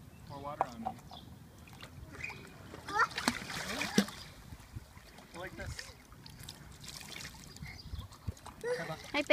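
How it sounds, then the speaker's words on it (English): Child splashing while swimming in a pool on the first swim of the season, with irregular close splashes and water sloshing alongside children's voices and adult talk throughout. "I'm swimming."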